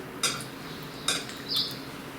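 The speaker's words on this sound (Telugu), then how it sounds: "ఈ పల్లీల పొడి మొత్తం ఈ చింతపండు రసంలో కలిసేటట్లుగా ఇలాగా కలుపుకోవాలి" A spoon stirring peanut powder into tamarind juice in a bowl, producing a few sharp metallic clinks and scrapes spaced apart, close and without talk.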